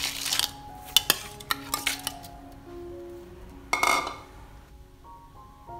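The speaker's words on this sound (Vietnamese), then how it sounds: "Và đây là mình để 3 vá nước đá nè" Ice ladled into an orange and milk smoothie mix, bright clinks and rattling knocks of cubes against a metal ladle and container, a few separate clattering bursts, close with ringing tails between.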